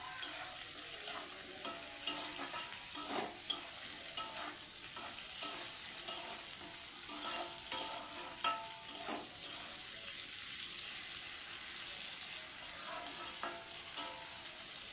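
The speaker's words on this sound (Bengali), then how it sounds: "আমি এইগুলোর সঙ্গে এই বেগুন আর আলুটা একটু ভালো করে ভেজে নেব, লাল লাল করে।" Eggplant and potatoes frying in a pan give a steady bright sizzle throughout, broken by scattered scrapes and knocks of stirring, close and continuous with no talk.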